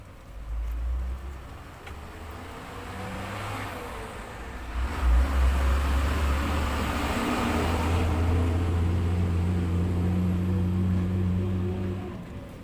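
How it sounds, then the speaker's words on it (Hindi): Honda Shine motorcycle engine with a loose timing chain runs steadily close by, a low droning hum with a slight rev rise partway through and a busy, rattly upper texture. "अब देखिए यहाँ पे ये बाइक यहाँ पे चल रही है, ये इतना लूज करने पे ये चल रही है।"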